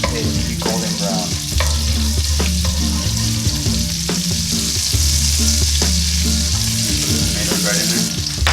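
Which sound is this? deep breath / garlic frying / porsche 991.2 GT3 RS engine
garlic frying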